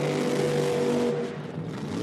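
Loud drag race car at an IHRA Outlaw Nitro Series Spring Nationals event launching hard off the line, a dense roaring engine tone that holds then drops away as it pulls off, brief and loud with no talking.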